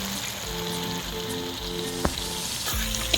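Ginger and garlic paste frying for chicken kosha in a pan, a steady close sizzle with faint hum and a couple of sharp taps, no talking.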